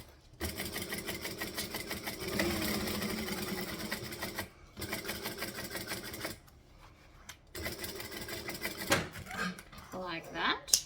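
A sewing machine running stitch and back stitch through vinyl: rapid mechanical chattering bursts, a long run, then shorter runs separated by brief pauses, close and clear.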